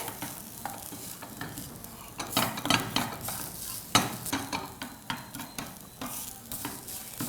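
Poppy seeds roasting on a low flame in a pan for godhi nuchchina payasa, with a spoon scraping and stirring in irregular bursts over a faint crackling sizzle, and no voices.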